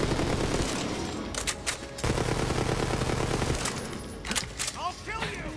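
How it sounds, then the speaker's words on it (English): Torrent weapon firing at a very high rate in Borderlands 3, a dense continuous burr of rapid shots with game effects, loud and close, with speech-like sounds mixed in. "this gun does indeed go burr"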